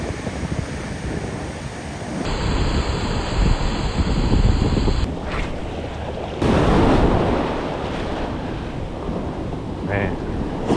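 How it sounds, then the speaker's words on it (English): Heavy surf breaks on a New Jersey saltwater beach while strong wind buffets the microphone, a loud continuous roar with surges as waves crash close by. "Man, these waves are crazy."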